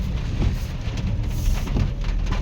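Heavy rain pours down around a car parked on arrival at the Salangpur temple, a loud, dense, steady roar of rainfall filling the whole moment, with no talk.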